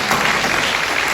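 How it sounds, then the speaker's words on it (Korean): A church congregation claps together in worship at a Korean Methodist Sunday service, a dense, steady wash of applause that fills the space at close range, with no voices rising above it. "우리 박수로 함께 영광을 드리겠습니다"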